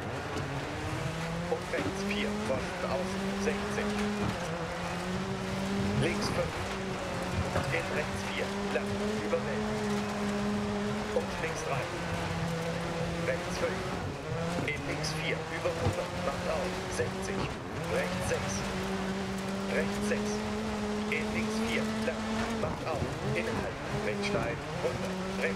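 A rally car engine roars steadily in Dirt 4, climbing in pitch and dropping at each gear change during a foggy Michigan stage, with tire and gravel noise beneath. Someone talks over it throughout.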